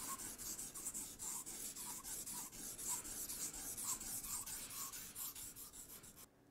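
A simple carbon steel knife blade from a Leatherman Signal is sharpened on a stone, a steady, close rasping of back-and-forth strokes in an even rhythm that continues for several seconds before stopping.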